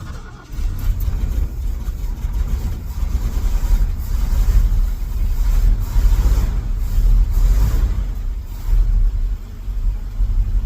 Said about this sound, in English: So we're just gonna start this thing. I'm gonna keep an eye on it while it idles.